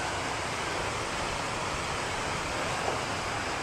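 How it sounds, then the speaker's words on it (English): A waterfall in Thailand, a steady, dense roar of rushing water, loud and unbroken throughout with no voices over it. "Have a look at this waterfall."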